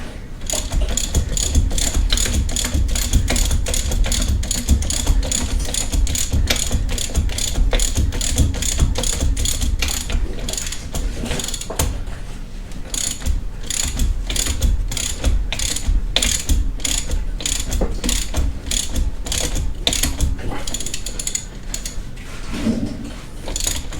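A ratchet cranks the belt tensioner while an 8-rib belt is fitted to an LSA supercharger on an LS engine with Corvette spacing, a loud, close, fast run of clicks that continues steadily throughout.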